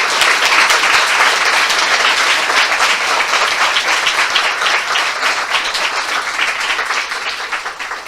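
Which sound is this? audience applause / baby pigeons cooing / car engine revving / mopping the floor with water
audience applause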